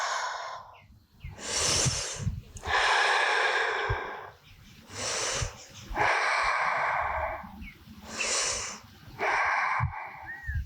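Slow, deep breaths during a seated yoga practice, each long airy inhale or exhale rising and fading in turn, about five breaths heard close up with quiet pauses between.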